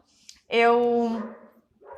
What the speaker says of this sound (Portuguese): a Nina nos fazendo o favor de conversar com a gente. Minha cachorrinha